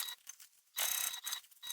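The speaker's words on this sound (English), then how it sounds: "I'm going to sew all around that side with just an 1/8 of an inch seam allowance" A sewing machine stitches fabric for a small ditty bag in short, rapid mechanical bursts, with one longer run in the middle of the clip.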